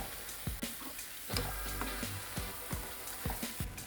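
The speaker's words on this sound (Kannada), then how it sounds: "ನೋಡ್ರಿ ಈಗ ಪಾಲಕ್ ಪೇಸ್ಟ್ ಹಾಕೊಂಡು ಮಿಕ್ಸ್ ಮಾಡತ್ತೀನಿ ರೀ ಎಲ್ಲ" Palak paste frying in a pan while being stirred, a low steady sizzle broken by regular scraping strokes about every half second, close and alone with no voices.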